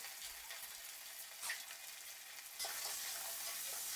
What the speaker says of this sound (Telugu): అల్లం వెల్లుల్లి ముద్ద పచ్చివాసన పోయేంత వరకు కలుపుకోవాలి.